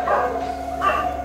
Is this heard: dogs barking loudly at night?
yes